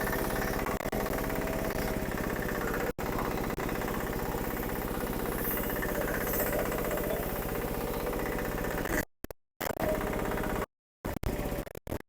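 A Japanese agricultural vehicle's engine runs close and loud with a steady, throbbing mechanical drone that cuts out briefly near the end, while someone talks over it.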